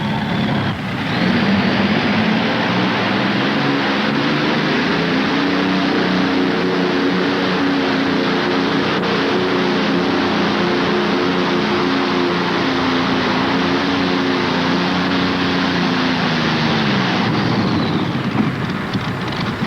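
A tractor-pull machine powered by an Allison aircraft engine roars at sustained high revs near 5,000 RPM, a loud continuous harmonic drone that climbs slightly, holds steady for about fifteen seconds, then drops away at the end.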